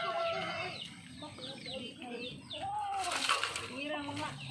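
Chickens clucking close by, with repeated short clucks and calls in an outdoor setting, heard under people talking over a steady background noise.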